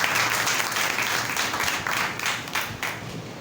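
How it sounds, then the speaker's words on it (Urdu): A church congregation applauding, dense sustained clapping from many hands that fills the room, loud and steady, with a few louder bursts near the end. "خدا کے روح کے لیے زوردار تالیاں بجائے"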